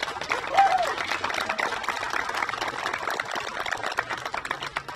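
Outdoor crowd clapping at a Pride flag raising, a brisk patter of many hands that stays steady over five seconds, with brief voices rising above it near the start.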